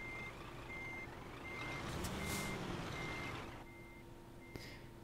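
A truck in Euro Truck Simulator 2 sounds evenly spaced reversing beeps while turning, over a steady low engine drone, with a brief rise in engine noise midway.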